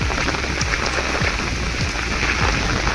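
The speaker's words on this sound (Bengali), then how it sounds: "মারাত্মক বৃষ্টি হচ্ছে।" Heavy rain falls steadily over farm fields in the countryside, a dense, continuous hiss with scattered drop impacts, loud and close throughout with no talking.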